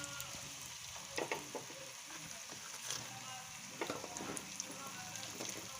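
Chopped potatoes, carrots and onions sizzle and fry in a pan for a poori curry, a steady crackling hiss punctuated by occasional stirring clatters close to the microphone.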